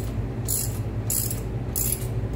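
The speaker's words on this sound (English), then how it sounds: "My wrench here. So we're just threading this into our crank now." A ratchet wrench threads a homemade harmonic balancer installation tool into an LS engine crankshaft: three rhythmic bursts of fast metallic clicking, close and clear, about half a second apart over a steady low hum.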